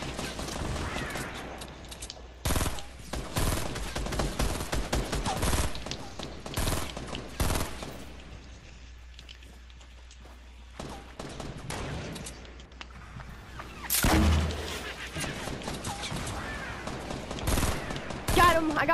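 Rapid bursts of gunfire from the video game Fortnite, loud repeated volleys with pauses between them, one heavy stretch near the end and a quieter lull in the middle.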